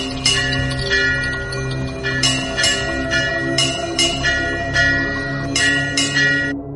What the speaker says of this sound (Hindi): तभी अचानक दूर से घंटी की आवाज आई।